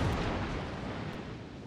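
A heavy, rumbling boom from the battleship Montana's main guns in a naval combat game, loud and close at the start with a long, decaying roar that fills the rest of the moment.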